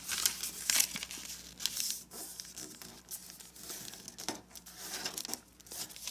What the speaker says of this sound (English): Now let's fold this edge to the crease